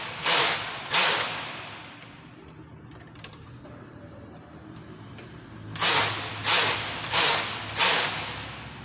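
Chunky knitting machine carriage sliding across rows of a cardigan, two quick rasping passes, then a quiet pause, then four more rhythmic loud swishing strokes close by.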